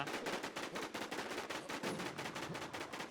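Rapid automatic gunfire from the shooter game Terror rattles steadily for a few seconds, a dense run of evenly spaced loud shots with no voices over it.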